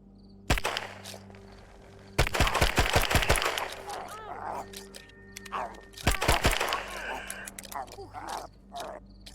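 Gunshots ring out in the online survival video game, one lone shot and then two quick bursts of sharp rapid fire separated by quieter stretches, loud and close with game noise between.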